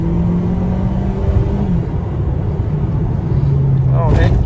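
An Alfa Romeo MiTo accelerates quickly toward 80 km/h in dynamic mode, with a close, steady engine rumble and a faint rising whine inside the cabin. A voice briefly cuts in near the end.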